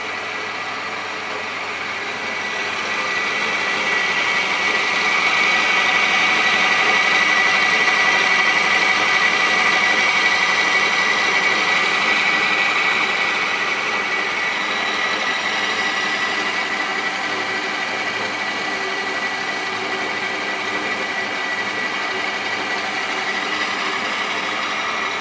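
A lathe fitted with a newly built steady rest spins up on a test run, its steady mechanical hum and whine swelling over the first few seconds and then holding constant and close without talk.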